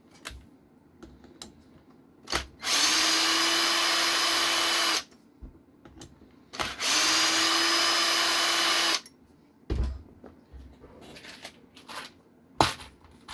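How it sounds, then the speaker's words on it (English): A power driver backs two screws out of a Losi 22S RC car chassis in two steady whirring bursts of a couple of seconds each, with small clicks and handling taps around them. "So now what I'm going to do is take out those two screws."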